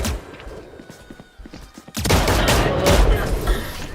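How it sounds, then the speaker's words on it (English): Rapid gunfire spray in a tactical shooter round, a dense loud burst of rattling shots that erupts midway after scattered quieter pops, with a voice talking early on. "I didn't think I sprayed like 20 bullets."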